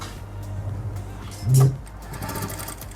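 Sewing machine stitching folded fabric for an Afghani salwar, giving a brief loud whirring burst in the middle amid quiet room sound and a low hum.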